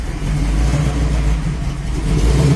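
A warmed-up pro street Chevrolet Camaro engine rumbles deep and loud up close, with a low throaty revving that swells and settles over a couple of seconds.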